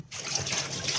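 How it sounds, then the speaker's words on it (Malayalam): Sardines being washed in water for a Kottayam-style fish curry, a brief close burst of trickling, sloshing water lasting about a second, with no speech. "അപ്പം അങ്ങനെ നമ്മൾ മത്തിയെല്ലാം കഴുകി എടുക്കുന്നുണ്ട്"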